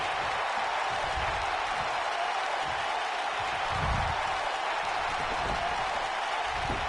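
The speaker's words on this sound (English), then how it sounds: "by the sound of this crowd, I think they're getting what they wanted" Video game wrestling crowd in WWE 2K19 keeps up a steady, dense roar of cheering and applause throughout, with no clear pauses and no talk over it.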